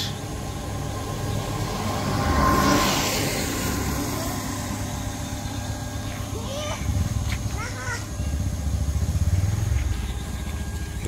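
A motorcycle engine hums and rumbles at a moderate distance on a cold village roadside, with a louder rise in the middle and people talking throughout.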